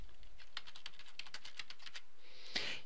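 Typing on a computer keyboard, a quick run of quiet, close key clicks in an uneven rhythm, ending with a slightly louder keystroke, with no talking.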